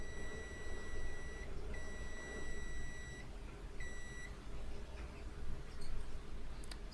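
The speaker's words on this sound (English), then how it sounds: "you will hear a beep from my multimeter." A digital multimeter sounds a continuity beep while probing a mobile phone circuit board during repair: three clear, thin, high-pitched beeps, the first two long and the last short, over a faint steady room hiss.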